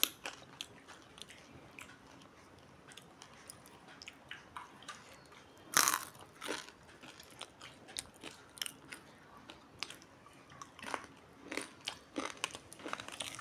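Sarvapindi, a crisp rice flour snack, being bitten and chewed close up: quiet, irregular crunches with one sharp, loud bite early on, then softer repeated chewing crackles.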